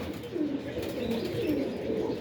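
Soft, low pigeon coos repeating in a steady murmur, fairly close, with a faint chirp or two above them.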